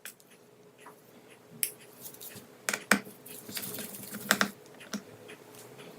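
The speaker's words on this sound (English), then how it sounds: "Next, we remove the rest of the screws around the bottom plate." A JIS #1 screwdriver removes the bottom-plate screws from an ASUS V16 V3607 laptop, giving scattered small clicks and taps with a few sharper metallic ticks. The sounds are close and quiet with pauses between them, and no one speaks.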